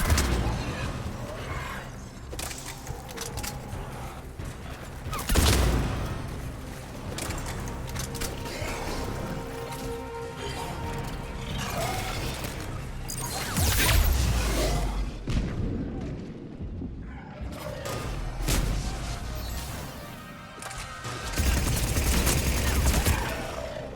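Video game guns fire in heavy, continuous bursts with booming impacts and explosions, loud and close, with game voices talking over the barrage at times.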